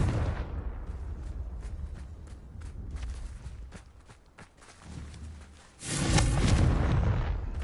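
A Confringo explosive spell blast in Hogwarts Legacy, a loud burst of booming rumble near the end that follows quieter rustling and footstep-like thuds, with no talk during the blast.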